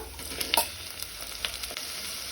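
Prawns are added to onions frying in a pan for a Goan prawn and radish curry, producing a soft continuous sizzle with a few sharp crackles and spattering pops near the start.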